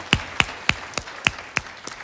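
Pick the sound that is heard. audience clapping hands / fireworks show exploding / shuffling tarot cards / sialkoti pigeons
audience clapping hands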